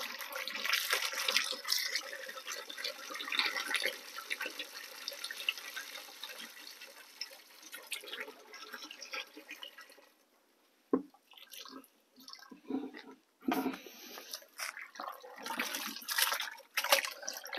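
Molasses mixture being stirred into water while making a bio-fertilizer: a steady, sloshing liquid churn for about ten seconds, then a brief pause followed by irregular splashes and drips close by.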